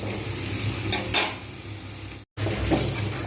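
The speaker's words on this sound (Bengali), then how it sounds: "সুন্দরভাবে এটাকে ভাজছি" Potatoes and banana flower fry in a pan for a Bengali mochar dalna, a loud, continuous close-up sizzle with scraping stirs of a utensil, broken by a momentary gap of silence; no voices.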